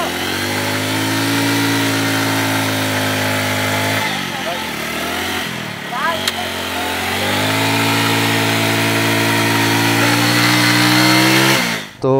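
A GPX Demon motorcycle runs close by on a sandy beach at Cox's Bazar. Its engine holds a buzzing idle, dips and rises in pitch as it is revved, then cuts off abruptly at the end.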